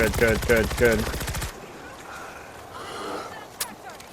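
Rapid automatic gunfire from the zombie shooter World War Z: Aftermath, a loud stuttering burst in the first second and a half before dropping to quiet game ambience with a faint sharp crack.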